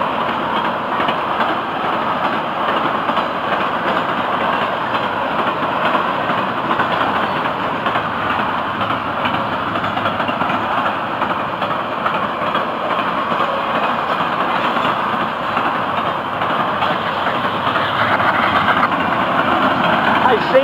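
A long train rumbles steadily past at close range, a continuous broadband roar with faint clatter that holds constant throughout.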